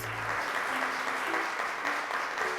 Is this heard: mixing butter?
no